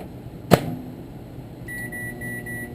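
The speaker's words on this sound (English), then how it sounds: "We're going to go to the microwave." A microwave oven hums steadily after a sharp click as it starts, with a thin electronic whine above the low drone; the appliance is heating clear plastisol for soft fishing bait.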